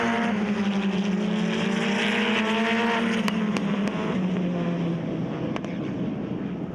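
GTC race cars at Red Star Raceway in Delmas, a loud close engine drone that sweeps down in pitch as the cars pass, with sharp clicks and a fading tail of engine noise.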